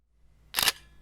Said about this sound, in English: we should be able to hear the shutter click